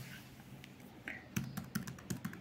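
Fingers typing a command on a computer keyboard, a few soft scattered taps followed by a quick run of clicking keystrokes, quiet and close, with no voices.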